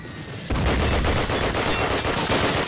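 Sustained rapid gunfire in the 2003 Call of Duty video game, erupting suddenly after a quiet moment into a dense, loud, continuous burst of automatic shots.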